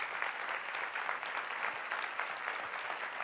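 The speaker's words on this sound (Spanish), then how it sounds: "dale un aplauso al Señor" Steady applause from a church congregation, sustained and even throughout with no talking.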